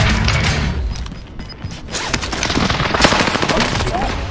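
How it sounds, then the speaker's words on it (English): An allied precision airstrike in the Warzone video game: a dense, loud rolling barrage of blasts and gunfire-like cracks crowding together continuously with no break. "Allied precision airstrike incoming."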